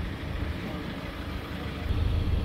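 A diesel engine idles steadily during a pressure test of a damaged diesel particulate filter, giving a continuous low, rough rumble that stays close and even, growing slightly louder toward the end.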